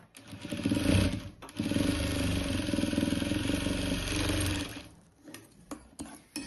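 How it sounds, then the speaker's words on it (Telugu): A sewing machine runs a steady, fast mechanical whir while stitching the corner of a princess-cut blouse front, starting and stopping with short pauses near the end. "ఒక స్టిచ్ కార్నర్కి వేసుకుంటున్నా చూడండి ఇట్లా కార్నర్కి ఇలా నీట్గా వేసేసుకుంటున్నాను"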